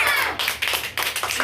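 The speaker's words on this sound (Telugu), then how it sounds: "క్లాప్స్ ఇవ్వండి అమ్మా." Children applauding in a primary school class, a short burst of quick, bright hand claps, close and fairly loud.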